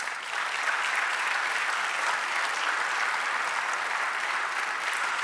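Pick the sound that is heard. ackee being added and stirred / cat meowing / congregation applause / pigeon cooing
congregation applause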